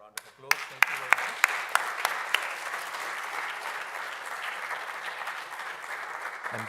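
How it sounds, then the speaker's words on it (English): An audience at a university inaugural lecture in natural sciences applauds, opening with a few distinct loud claps that swell into steady, dense clapping from a large crowd, sustained evenly to the end. "Give them another round of applause"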